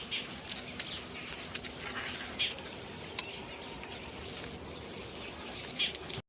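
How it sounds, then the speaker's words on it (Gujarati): Sparrows gather at a dish of water set out for them on a fresh morning, giving faint, scattered chirps and brief wing flutters over a low, steady outdoor background. "તમે આ જોઈ શકો છો પક્ષીઓ અહીંયા આવી ગયા છે સવારમાં મસ્ત વાતાવરણમાં"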